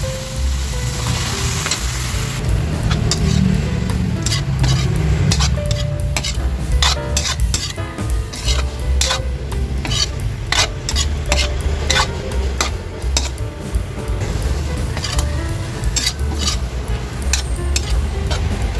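Pancit bihon stirs loudly in a frying pan after fish sauce goes in, with a constant sizzle and a dense run of spatula scrapes and clicks against the metal, close and steady throughout.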